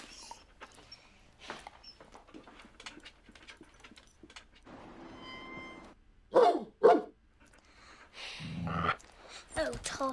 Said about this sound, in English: Stop barking, you're scaring everyone away.